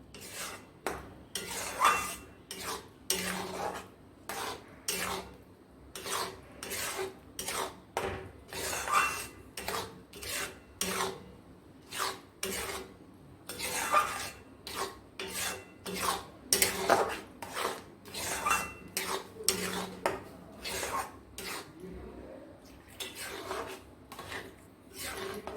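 A spoon stirs custard powder into milk in a pan while making ice cream sandesh, giving close, steady scraping and clinking strokes that repeat in an irregular rhythm for the whole stretch, with no one talking.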